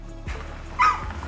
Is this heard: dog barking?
yes